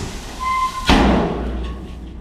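A dump truck unloads a load of stone with one sharp, heavy boom at a hardscape job site, followed by a rumbling decay and low engine noise.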